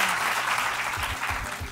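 Studio audience applause on an Uruguayan-style Spanish-language tech talk show, a dense steady wash of many hands clapping close and loud, with faint low thumps underneath.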